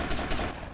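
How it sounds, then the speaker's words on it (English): Gunfire in GTA Vice City, a short loud burst of dense shots packed together with no clear gaps, heard alone without any talk. "Whoa, he's shooting at us."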